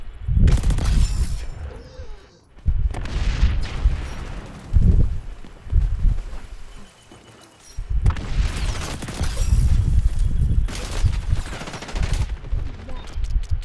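Gunfire in the video game XDefiant, bursts of rapid automatic shots in loud clusters with quieter gaps between them, close and punchy, with occasional voice chat.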